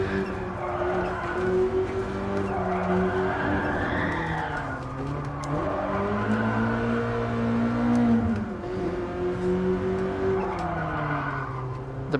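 A BMW E30 M3 in a VR racing game brakes hard, its engine note dropping and rising through downshifts with tires scrubbing and skidding, steady and close with no talk.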